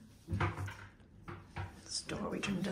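Empty drawers in a hotel suite's laundry-room area sliding open and shut, giving a few wooden knocks and rattles spaced across a few seconds, close by, with people talking in between.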